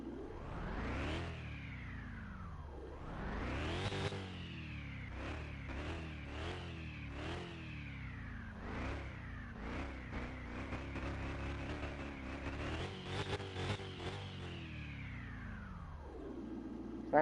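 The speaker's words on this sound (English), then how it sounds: "Yeah, the sound of a supercharger." A supercharged aftermarket engine fitted to a Tesla Model 3 in Car Mechanic Simulator 2021 revs repeatedly, rising and falling whines over a steady rumble, loud and close with no voices.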